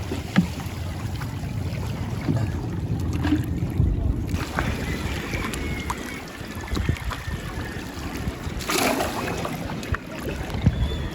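A large Filipino pangulong outrigger fishing boat out on a calm sea, heard as a steady wash of water and wind with a low motor rumble, fairly loud and continuous with brief splashes.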